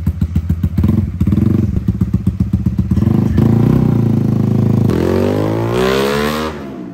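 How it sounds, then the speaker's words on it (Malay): A tuned twin cam motorcycle engine, an EX5, thumps through rhythmic blips up close, then rises into a long loud rev whose pitch climbs before it drops away at the end. "Okay, kita tengok abang ni test motor padu dia."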